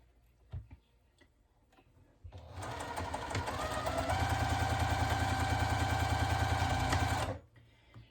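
A sewing machine piecing mini quilt blocks runs in one steady, fast-ticking burst of about five seconds, close and loud, with quiet handling clicks before and after.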